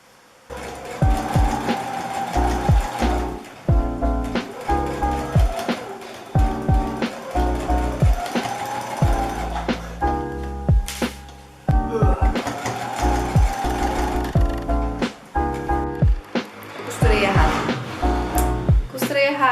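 A sewing machine stitching trousers at close range, in repeated short bursts of whirring stitching separated by pauses and handling clatter, with someone talking in between.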